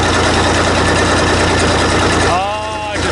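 Old abandoned bulldozer with its engine running close by, a loud, steady low rumble that eases toward the end as a brief tonal whine rises over it.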